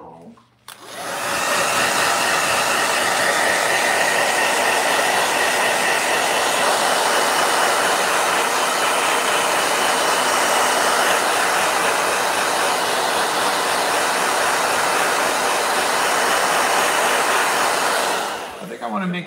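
A handheld blow dryer drying a watercolor painting switches on and runs as a loud, steady rushing whoosh for about seventeen seconds before cutting off.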